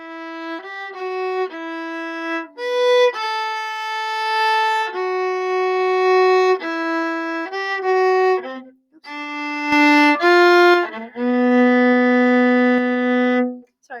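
A solo viola plays a lyrical phrase of a theme from Harry Potter, bowed notes with clear sustained pitches and slight gaps between them, close and fairly loud.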